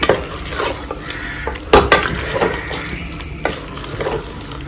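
A spoon scrapes and stirs chicken coated in masala inside a pot for cooker biriyani, with soft sizzling, occasional loud metallic knocks against the pot and wet shuffling of the meat.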